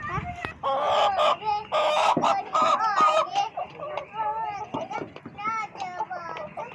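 Several chickens cluck and squawk close by in a busy, continuous chatter, with a rooster-like call mixed in.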